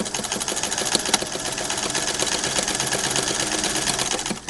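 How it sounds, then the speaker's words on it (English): A Singer 99-13 sewing machine runs steadily with its belt loose, giving a continuous fast mechanical whir and clatter at close range with a few sharper ticks near the start, and no voices. "watch how the machine runs with the belt loose"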